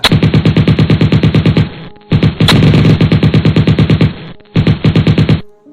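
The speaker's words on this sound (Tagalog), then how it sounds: "nariyan na ang napakalalakas na putok na tila ba humahabol sa mga aswang" Bursts of very loud rapid gunfire crash through a Filipino horror audio drama about aswang, three long volleys of machine-gun-like shots separated by brief pauses, with one sharp louder crack in the middle.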